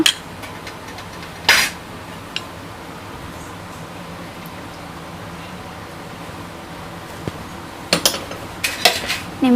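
Onion rice being stirred with lemon juice in a pot, with a spoon scraping and clinking against metal in short bursts at the start and near the end, close by, with quieter stretches between.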